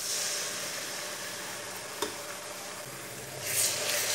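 Ginger-garlic paste hitting hot oil with browned onions, a steady loud sizzle and hiss throughout, with a brief clink of stirring midway and a rise in frying noise near the end.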